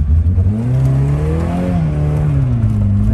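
A car engine pulls steadily while driving, its low harmonic drone rising and falling as revs change, loud and close with no voices.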